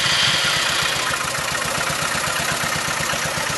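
A motorcycle engine runs on a temporary test fuel supply used for setting up carburetors, a loud, close, steady idle with a fast regular pulse throughout.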